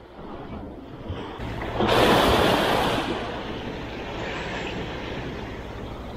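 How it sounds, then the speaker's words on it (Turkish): A boat motor drones steadily over rushing water and wind against a strong current off Gazipaşa, Turkey, swelling louder for a moment before settling into a constant roar. "Mübarek teknenin motor sesi var ya, aynı helikopter gibi ha."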